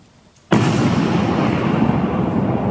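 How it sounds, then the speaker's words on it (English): A cannon shell explosion sound effect in a live stage play bursts in suddenly after a quiet moment, then a loud, sustained roar of rumbling debris fills the rest. "A cannon shell into the girls' bedroom."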